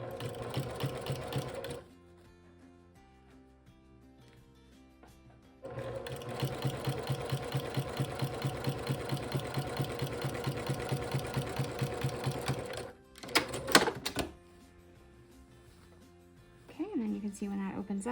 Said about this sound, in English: Get that needle down in the fabric, holding it in place, and then I can maneuver the rest of my seam here.